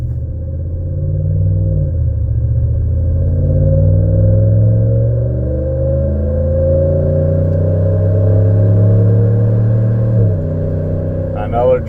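2019 Ram 1500 with a 5.7 HEMI V8 and Solo Performance MR 300 muffler delete, a loud, deep exhaust rumble that swells as the engine revs and settles back, steady and close.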